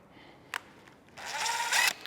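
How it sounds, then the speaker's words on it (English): A power drill on its lowest setting whirs steadily for under a second after a short click, running ARP head studs down on a Duramax engine, with faint mechanical ticks before it; close and fairly loud, no talking. "now I'm just going to use my drill on the very lowest setting just to run these down to finger tight"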